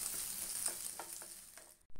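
Small cut coconut pieces roast in a pan for aval payasam, giving a soft, even sizzle with light stirring scrapes before it cuts off abruptly near the end.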